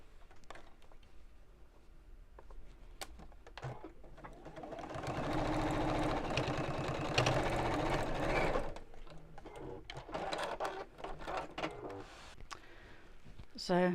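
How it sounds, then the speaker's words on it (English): A sewing machine stitches straight across bowling bag fabric in one steady whirring run of a few seconds, close and moderately loud, with quieter handling noises and talk before and after. "and we'll sew straight across there."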